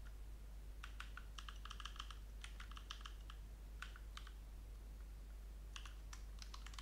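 Code being typed on a computer keyboard, with quick clusters of close, crisp keystrokes separated by brief pauses and a low steady hum underneath, no speech.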